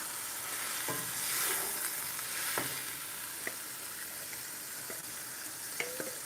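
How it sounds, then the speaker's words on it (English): Reconstituted soya chunks sautéing in a pan, a quiet, steady sizzle with scattered light taps and scrapes of a utensil moving them around. "we got to saute them too to give them some more flavor"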